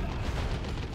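A plasma cannon shot in the video game Dawn of War 2 lands as a dense, rumbling blast, loud and continuous for the whole second amid the roar of a crowded battlefield.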